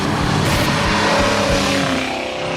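A 1968 Pontiac GTO muscle car's big engine roars loudly on the road as it accelerates, a deep, rumbling, continuous drone with shifting pitch and heavy wind noise.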